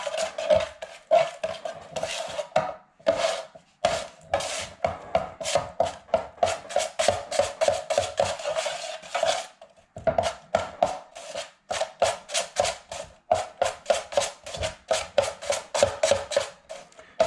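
Ceiling patch compound for a water-damaged skylight ceiling is worked in a small mixing tray with steady, rapid scraping and slapping strokes, close and continuous, broken by brief pauses.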